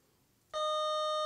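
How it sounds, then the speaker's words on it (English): A cell phone starts ringing partway through, a steady electronic tone with a clean stack of harmonics that holds loud and continuous after a short stretch of quiet. "That's my phone ringing right there."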